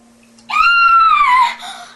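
A girl lets out one loud, sustained high-pitched scream at a spider, lasting about a second before trailing off into a short weaker cry.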